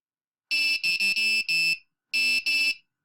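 A short sequence of electronic tones: a simple beeping melody of about six sustained notes with bright, buzzy timbre, a few pitches sounding slightly off, separated by a pause, with no talking.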